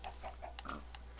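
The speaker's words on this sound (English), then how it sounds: "There's our pigs" Pigs in the Minecraft video game, Xbox 360 edition, give a quick run of short, soft oinks and grunts, faint and close together, with no talking.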